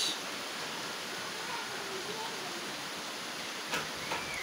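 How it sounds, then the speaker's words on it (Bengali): Rain falling outdoors makes a steady, even hiss with no distinct drops, continuous and moderately faint throughout. "বৃষ্টিটা আমার কাছে খুবই ভালো লাগতেছে।"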